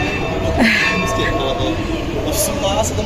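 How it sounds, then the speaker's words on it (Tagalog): A bell rings aboard the Neptune, a replica galleon ship, giving a couple of bright metallic strikes amid wind, ambient noise and nearby voices. "Nag-bell tayo, Yummers."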